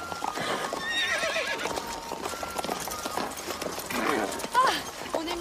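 A horse clip-clops at a steady riding gait with an occasional whinny, while a man and a woman converse in French over the hoofbeats.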